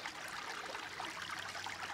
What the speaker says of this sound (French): c'est la petite rivière, on va dire un ruisseau, un ru, qui marque la frontière